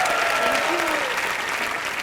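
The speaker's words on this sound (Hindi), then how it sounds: "जोरदार तालियां हो जाएं" Studio audience on a Colors TV comedy show claps loudly for guests, a dense burst of applause heard close with a faint voice underneath.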